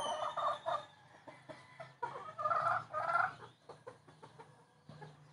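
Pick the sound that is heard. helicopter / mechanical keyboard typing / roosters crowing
roosters crowing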